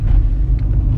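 Loud, steady low rumble of a car being driven with the windows up, filling the whole moment with no speech.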